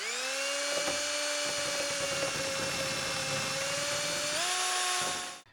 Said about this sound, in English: Turn the speed up on the lathe.